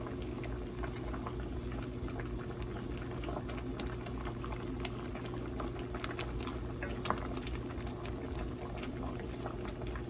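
Pieces of watermelon rind boil in a pot of water on a kitchen stove, a steady quiet bubbling and popping that continues evenly without a break.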